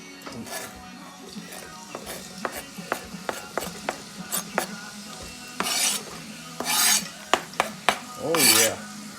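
Onions tossed into olive oil in a heating rice cooker and stirred, a string of sharp utensil scrapes and clinks against the pot with brief sizzling bursts, people talking between the strokes.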